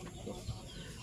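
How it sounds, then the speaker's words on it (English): A turkey on a farm gives a brief, faint call, largely buried in steady wind-like background noise. "Turkey. Yes, that's a turkey."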